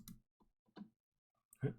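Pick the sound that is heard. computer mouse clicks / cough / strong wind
computer mouse clicks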